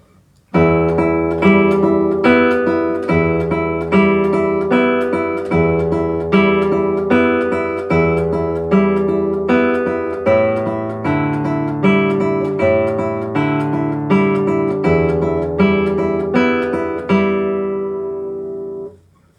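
Guitar phrase from Allegretto by Madame Sidney Pratten, plucked notes ringing over sustained low open strings, steady rhythm, clear and close, with no talking.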